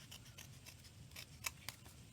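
Scissors trim and undercut a paper layer in a few quiet, close snips, with a couple of sharper cuts standing out near the end against a hushed background.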